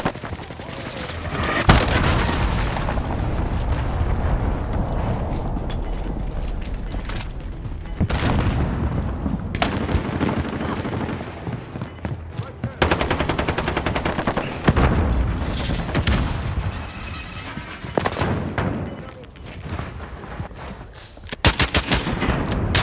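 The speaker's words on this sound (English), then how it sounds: "Allied precision airstrike incoming. 30 seconds. We are out of time. Allied cruise missile launched." Airstrike and cruise missile explosions in the Call of Duty Modern Warfare video game: repeated loud booming blasts and bursts of gunfire layered over a constant heavy rumble, dense and close throughout.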